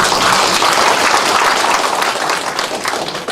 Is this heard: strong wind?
no